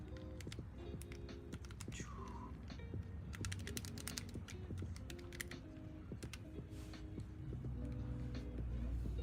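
Rapid typing of numbers on a computer keyboard, a dense run of close, crisp key clicks in irregular bursts over a low steady background hum, with no talking.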